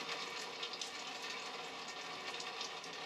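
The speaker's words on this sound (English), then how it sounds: "The pipe's making a bunch of noise as water drains." Rainwater draining noisily through a pipe during a storm, heard as a steady, dense rushing and trickling wash that holds level throughout, fairly loud and close with no pauses.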